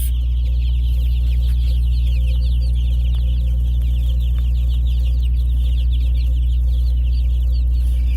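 Cornish Cross, Red Ranger and Asian black chicks cheep constantly in a brooder bin, a busy chorus of high peeping over a loud, steady low hum.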